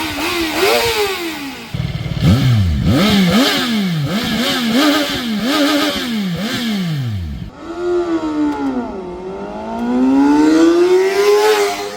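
Triumph 675SR-R and Kawasaki ZX6-R sport bikes ridden on a street, with a loud, close engine revving hard through repeated rising and falling gear changes, then a long climbing pull.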